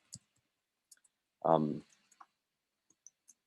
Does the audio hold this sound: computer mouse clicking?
yes